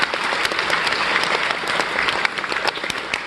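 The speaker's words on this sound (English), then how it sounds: "Everyone give him a round of applause." A crowd at a live music show applauds the keyboard and guitar player, dense and loud clapping that holds steady throughout.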